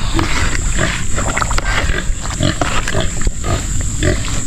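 Pigs and piglets on a farm, a steady busy chorus of grunts and squeals close by, continuous throughout with no talk.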